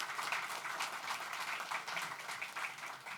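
A round of applause from the crowd at the grand opening ceremony of a permanent supportive housing development on Mission Street, heard as a fairly faint, even patter of many hands that continues throughout.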